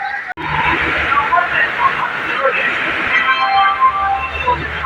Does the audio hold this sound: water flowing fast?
no